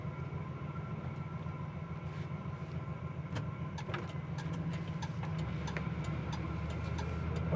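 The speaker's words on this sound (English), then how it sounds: "What a nice quiet car." A 1972 Oldsmobile Cutlass engine runs on the road, a low steady rumble with faint ticking and road noise, fairly quiet and even throughout.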